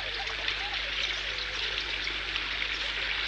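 A river flows steadily with a continuous broad rushing and trickling wash, even and fairly loud throughout, with no talking over it.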